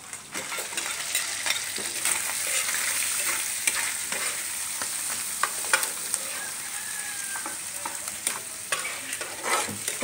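Egg fries in a pan at breakfast, a steady bright sizzle with scattered crackles and pops and occasional stirring scrapes, fairly close and with no voices.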